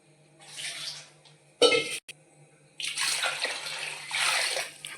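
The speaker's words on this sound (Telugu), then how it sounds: "ఒక గిన్నెకి రెండు గిన్నెలు వాటర్ పోసుకోవాలి అందులో వాటర్ పోసుకుంటున్నాం" Water is poured from a bowl into rice in a cooking pot while prawn biryani is being made. Close splashing and sloshing come in two bursts with a short clatter of the vessel between them.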